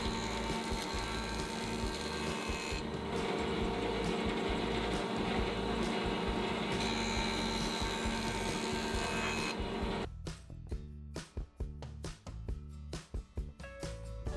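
A jointer planes the edges of wooden boards in a woodworking shop, a continuous loud whirring cut that runs steadily for several seconds, then breaks into short, irregular bursts of machining and knocks.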